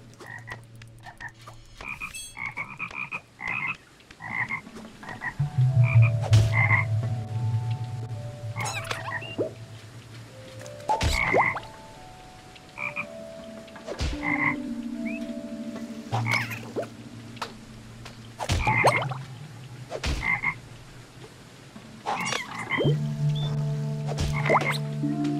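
Cartoonish frog croaks from the video game Toki Tori 2+ repeat in irregular bursts alongside chirpy tonal game effects and sharp clicks. The sounds stay up close and clear over a long stretch with no talk.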